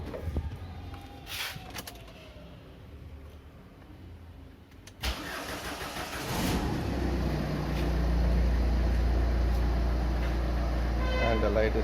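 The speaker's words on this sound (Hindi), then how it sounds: "Let's start the car and see." A Ford Fiesta or Figo engine turns over and catches near the middle, then settles into a steady, loud idle rumble, after some quiet clicks and handling noises, with speech heard in the background.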